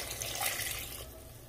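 Two cups of water poured into a cooking pot of chicken tinola, a soft, steady splashing stream that tapers off partway through, fairly quiet.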